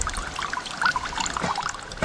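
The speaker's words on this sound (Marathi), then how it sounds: "पूर्ण हे पाणी काढून टाकायचं" Water trickles and pours steadily as it is drained off washed barnyard millet rice held back under a pot lid, a close, continuous liquid stream lasting a couple of seconds.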